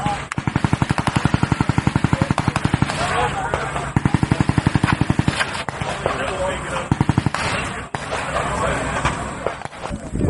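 Rapid bursts of gunfire at the 2014 Bullpup Shoot zombie shoot in Waterman, Illinois, recorded on location: repeated fast strings of loud, close shots, broken by short pauses and more scattered single reports.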